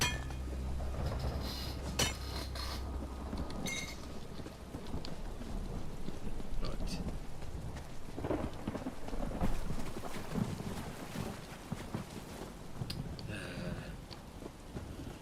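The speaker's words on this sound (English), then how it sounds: "schizophrenic weather that's mostly raining" Steady rain falls with rolling thunder in the Elder Scrolls Online game, a constant wash of downpour broken by low rumbles and scattered clinks and taps, heard throughout with no talking.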